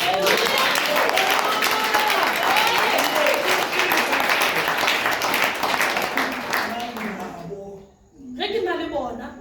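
Church congregation applauding together, a dense steady wash of clapping with crowd noise that carries on for several seconds before fading briefly near the end and picking up again.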